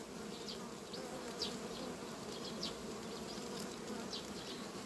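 Honey bees buzzing steadily as they gather to drink condensation on plastic foil at a hive, a continuous close drone with individual bees whining past now and then.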